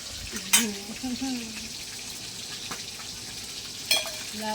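A fish head fries in a pan with a low continuous sizzle and a couple of sharp pops, a voice speaking briefly near the start over the frying.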